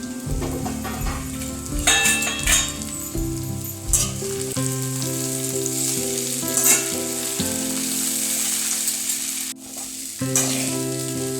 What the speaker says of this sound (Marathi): याच्यात पोहे टाकून घेऊया.